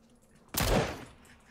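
A single loud Mini-14 rifle shot cracks in a battle royale video game, a sharp burst that tails off over about half a second against a quiet background.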